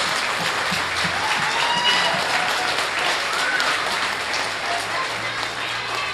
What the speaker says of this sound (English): Let's give these kids a big and unforgettable round of applause